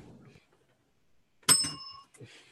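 A bell is struck once on a live show, giving a bright, loud ding whose ringing tone decays over about half a second; brief faint voices are heard before it and just after.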